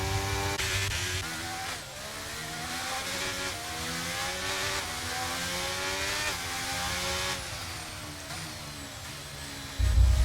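Race cars in a video game racing league race, engines droning and revving loudly throughout with rising and falling pitch as cars shift gears, ending in a sudden louder burst.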